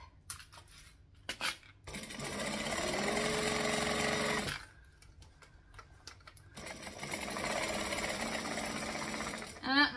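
Sewing machine running in two sustained bursts of rapid, buzzing stitching, forward and then back, separated by a pause and preceded by a few clicks and handling sounds, close and fairly loud.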